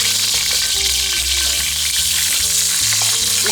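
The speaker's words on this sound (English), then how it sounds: "The rest of the oil, we're gonna do our green beans," Parboiled green beans stir-frying in hot oil in a pan, a loud continuous sizzle with rhythmic scraping and tossing as they are stirred.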